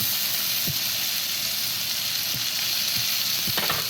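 Butter sizzles and fries steadily around ribeye steaks in a hot pan, a dense continuous crackle with a few soft clinks of a utensil, close and alone with no talk.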